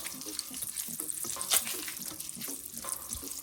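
Crushed garlic sizzles gently in butter over low heat, a soft, close crackle and hiss with faint bubbling and a small clink, fairly quiet throughout.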